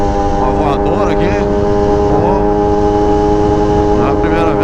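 Motorcycle fitted with a new AC Exhaust tip, running loud and close with a steady engine drone that surges unevenly as fuel runs low on reserve.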